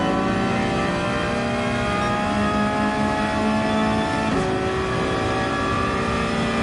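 A Porsche 911 race car engine in Gran Turismo 7, driving in another car's draft, a loud steady high engine drone held close with a brief gear change near the end and no voices.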